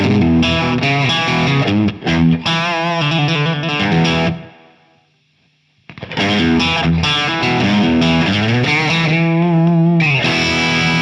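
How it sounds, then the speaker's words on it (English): Distorted electric guitar through a British crunch amp with added reverb, playing bluesy chords and lines with a spacious reverb tail, loud and up close, briefly pausing as the ring fades out. "with the addition of reverb, and this is perfect for adding some space around bluesy lines"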